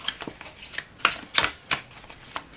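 Lumina Tarot cards are shuffled by hand in a run of crisp, riffling bursts and soft slaps, close and fairly loud, with no talk over them.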